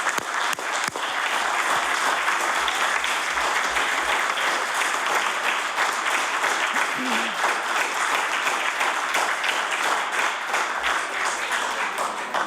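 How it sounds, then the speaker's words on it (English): Sustained loud applause from a large crowd, steady and unbroken throughout, with a faint voice underneath. "If we could offer them a big round of applause to welcome them to our beautiful province."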